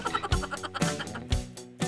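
Broiler chickens in a grow-out coop holding about 13,000 birds at a meat-chicken supplier's farm in Nganjuk, East Java, clucking and calling in a dense, continuous flock chorus with a few louder close calls.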